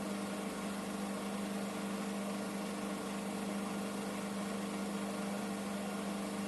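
Washing machine spinning towels at 1000 rpm with the load unbalanced, a steady loud whirring hum with constant noisy rumble throughout, no pauses.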